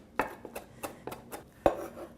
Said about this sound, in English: go back and forth in a chopping motion